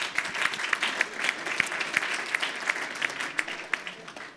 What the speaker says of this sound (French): Vous pouvez l'applaudir, hein, Alain Bravo.